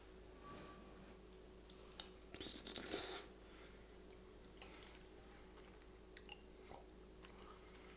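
Close, faint chewing and crunching of a spoonful of leftover Christmas prime rib chili, with a brief burst of louder mouth noise in the middle and quiet ticks of chewing after it, and no talking.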